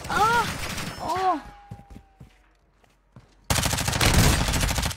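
Bursts of gunfire in a video game are aimed at the player. Loud rapid shots ring out in the last second and a half, after exclamations and a quieter stretch with scattered clicks.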